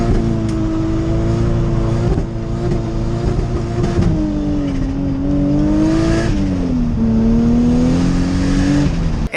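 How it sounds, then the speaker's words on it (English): A truck doing rolling burnouts on pink-smoke tires, its engine roaring loud and close with a sustained, wavering rev that rises and falls, tire noise underneath. "I did a couple rolling burnouts"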